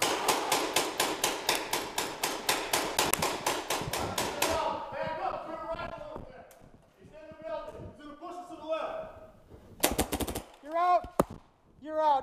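Paintball guns firing during an outdoor jailbreak game: a steady rapid string of sharp popping shots for several seconds, then scattered bursts as people shout and talk nearby.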